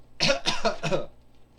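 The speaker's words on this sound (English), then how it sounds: "Sorry for coughing right there" A quick burst of three or four harsh coughs, close and fairly loud, with no talking around them.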